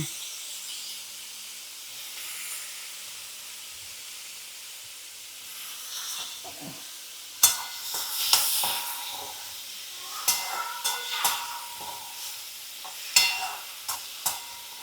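Peeled, chopped chayote is tipped into a hot pan and fries, starting with a faint steady hiss, then sharp stirring clatters and bursts of sizzle break out intermittently over the second half.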